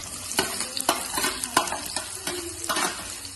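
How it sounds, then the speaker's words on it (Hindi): Onion goes into hot oil with cumin in a pan for an okra dish, giving a steady sizzle broken by several sharp scraping stirs of a utensil, close and fairly loud. "और जीरा चढ़ गया, उसमें डालेंगे प्याज।"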